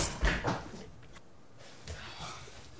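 Kitchen drawers by the sink yanked open and shut during a frantic search: a few sharp wooden clacks and rattles up front, then a quiet stretch and a fainter knock near the end.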